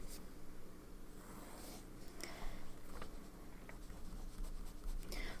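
TWSBI Eco fountain pen with a broad nib scratching across paper in short, faint strokes and taps, close and quiet against a soft room hiss.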